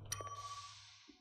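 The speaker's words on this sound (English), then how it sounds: "is someone using my bell?" A bell in the video game Space Station 14 gives a single bright ding that rings on with a thin, fading tone, clear and alone.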